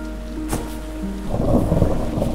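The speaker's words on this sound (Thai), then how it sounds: "ฝนตก" Video game rain falls steadily while thunder rumbles low and loud, the rainfall growing denser and more spattering midway, with no voices.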